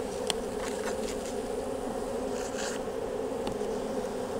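Honey bees buzz steadily inside an opened hive that is partly chaotic with a little brood left, a dense continuous drone with a few brief louder passes from individual bees near the microphone.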